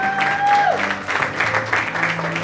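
Church congregation applauding and cheering during a sermon, a dense, steady wash of clapping and voices filling the room without pause, with a sustained organ or keyboard tone gliding down underneath.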